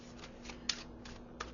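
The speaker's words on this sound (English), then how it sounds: "Let's give it a quick shuffle" A deck of tarot cards is shuffled by hand in a quiet room, giving soft riffling rustles with two sharper card snaps, the second just before the end, close and alone with no talking.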